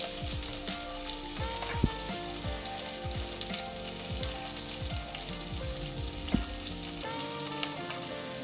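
Mustard seeds and asafoetida sizzle steadily in hot oil, with a dense crackle and sharp little pops and spits from the seeds all the way through, and no voices.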